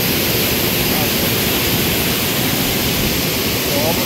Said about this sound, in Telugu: దగ్గరలో అల్లూరు జిల్లా కొయ్యూరు మండలం గాదిగుమ్మ జలపాతం.